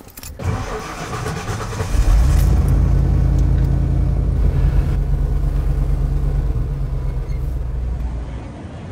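A pizza truck's engine cranks and catches, then settles into a steady, close, rumbling run that holds for several seconds, with no clear talk over it.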